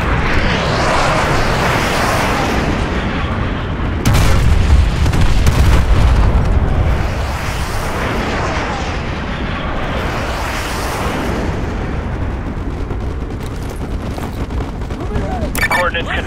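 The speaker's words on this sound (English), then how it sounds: "Fire mission received. Artillery inbound." Artillery strike explosions in Call of Duty Modern Warfare 2 Remastered, a dense, continuous roar of booming blasts and gunfire with a heavier low thump partway through, loud and sustained under radio voices.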